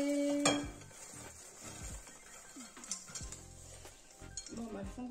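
Food catching and burning on the bottom of a saucepan on a hot plate: faint sizzling under clinks and scrapes of a utensil stirring against the pan, with an initial metallic clatter.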